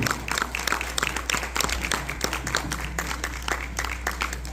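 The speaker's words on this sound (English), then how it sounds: "How about a round of applause for all those actors" Lively applause from a premiere audience, many hands clapping in a dense, continuous patter that stays steady throughout.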